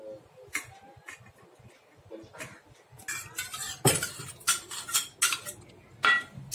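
Steamed hilsa fish pieces set one by one into a steel tiffin carrier, giving sparse metallic clinks and taps that grow busier and louder toward the end, close by with no talking.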